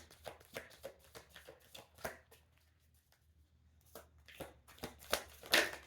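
Tarot cards being shuffled by hand during a reading, a run of quick soft riffling and slapping bursts, close and clear, with a short pause in the middle before more shuffling.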